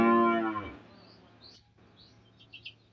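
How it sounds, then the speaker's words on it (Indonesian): A cow lets out one loud, close moo that fades quickly, followed by faint bird chirps in the quiet background. "Ada suara muah-muah, suara sapi ya teman-teman."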